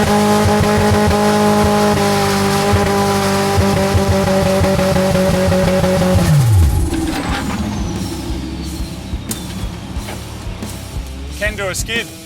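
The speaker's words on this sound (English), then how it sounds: "The Hilux can do a skid." A turbocharged Toyota Hilux pickup skids, its loud engine drone holding steady before revs drop sharply into a rough, noisy scrub of tires on the surface, with voices shouting over the car.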